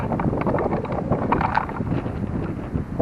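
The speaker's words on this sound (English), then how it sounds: "It is officially too windy to continue today" Strong outdoor wind buffets the microphone at a cabin build site, a continuous loud rumbling roar with gusty swells throughout and no voices.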